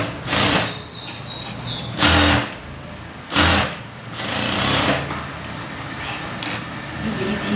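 A sewing machine stitches a three-dart blouse in a tailoring setting, running in short loud bursts of a second or so separated by quieter gaps, with steady background noise throughout.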